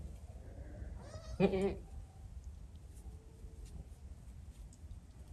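A single baby goat bleats once, a short wavering cry up close, amid a quiet outdoor background.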